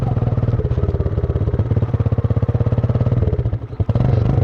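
Romet Ogar 202 moped engine running steadily off-road at night, a loud, close, continuous buzzing putter with throttle wobbles and a brief dip near the end before picking back up.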